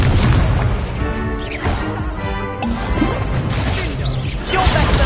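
Incendio fire spell blasts in a wizard video game, loud crashing bursts and booming impacts layered over constant dense game noise, several hits in quick succession.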